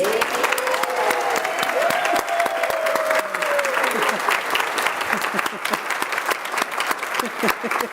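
Audience in a congregation's assembly hall applauds warmly for new members, steady dense clapping throughout, with a voice speaking briefly over it at the start.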